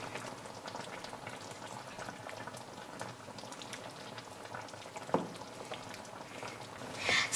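Homemade plum jam simmers over low heat in a pot, giving a steady, close bubbling with one louder pop and a burst of bubbling near the end.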